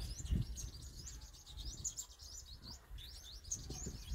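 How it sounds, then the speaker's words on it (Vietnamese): A sunbird near a bird trap gives repeated short, high chirps in scattered bursts, moderately close against a soft outdoor background, with no talking. "chim cha đứng ở đây nè"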